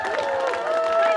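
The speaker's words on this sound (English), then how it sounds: "So give him a huge round of applause." At a pepper eating competition on a stage, an outdoor crowd claps and cheers in a brief, continuous burst, with voices and tones mixed in through the applause.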